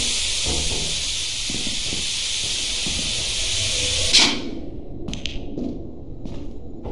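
Steam hisses loudly and continuously in Lethal Company, a close bright rush that cuts off abruptly with a thump, leaving faint knocks and rustles.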